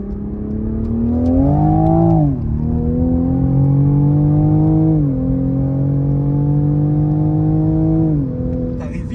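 Toyota Supra engine revving hard in a run of gear pulls, each rising whine climbing toward the redline before dropping at the shift, loud and close from inside the car.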